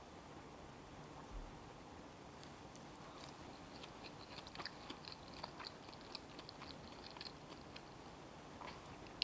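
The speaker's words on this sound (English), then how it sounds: "I like the crunch of the vegetables." Close, quiet chewing of a crunchy vegan vegetable pancake, with soft irregular crunches and bites in an otherwise still room.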